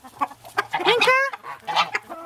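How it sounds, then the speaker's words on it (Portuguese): A goose on a farm gives a loud, close run of nasal honks and clucking calls, with one longer rising honk in the middle, heard alone without talk. "Esse ganso aqui é apaixonado comigo."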